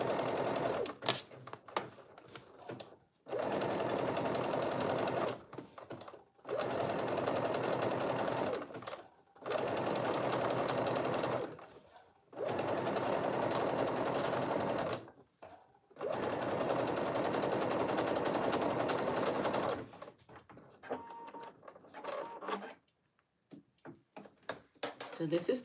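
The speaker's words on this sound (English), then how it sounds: "let me use that zigzag stitch as I go ahead and understitch, pressing with my finger the seam to one side." A home sewing machine runs a zigzag stitch to understitch a knit tee's seam, humming in five or six steady bursts of several seconds each separated by brief pauses, close and loud, followed by quieter handling clicks.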